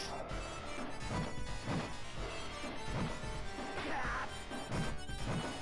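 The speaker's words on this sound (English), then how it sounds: "Break the glass." Glass shattering in the Final Fight arcade beat'em up, a run of dense crashing impacts over steady game music and effects, loud and continuous with repeated hits.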